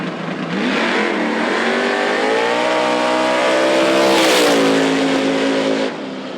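Street-class Ford and Chevy drag cars roar close by at a drag strip, engines revving hard with a rising whine that swells near the end before dropping off.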